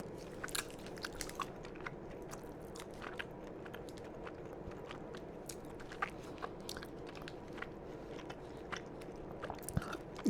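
Close, quiet chewing of a pecan nougat candy bar, with small sticky crunches and clicks scattered irregularly over a soft steady background.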